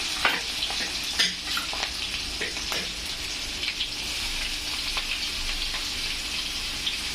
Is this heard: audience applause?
no